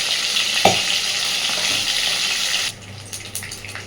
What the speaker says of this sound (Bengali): তো চলুন আমি মাছগুলোকে সুন্দরভাবে ভেজে নেব।